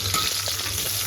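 Close, even sizzle of whole cardamom and cinnamon frying in hot oil for palak paneer, a brief steady crackle with no voices.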